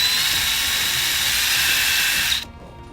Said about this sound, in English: We'll drill through this.